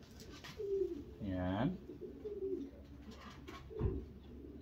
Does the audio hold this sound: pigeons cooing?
yes